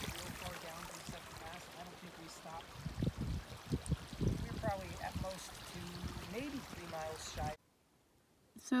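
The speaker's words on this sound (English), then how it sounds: "This little creek is adorable." A small creek flows along the Pacific Crest Trail, Section J, a soft steady trickle of running water close by, with some talk over it before it cuts out.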